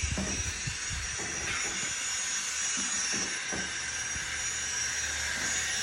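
A model Union Pacific GTEL 8500 HP turbine locomotive runs slowly at low throttle, giving a steady, continuous whirring hiss with faint rail clicks throughout.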